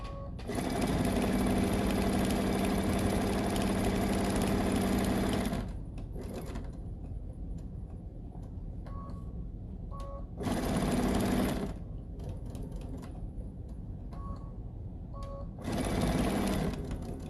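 A sewing machine top stitches a fabric bracelet in three loud, close bursts of rapid mechanical whirring, separated by quieter pauses with light clicks and handling.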